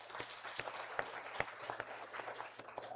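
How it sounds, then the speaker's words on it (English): Audience at a science and development conference panel applauding a professor's introduction: faint, fairly distant clapping with scattered sharper claps standing out over a soft roomy wash. "Please give a round of applause to Professor Ioannis."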